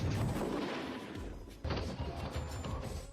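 Rapid bursts of drone gunfire from an action movie, with a dense crackling volley followed by a sharp loud impact and continuing rumbling shots, heavy and close throughout.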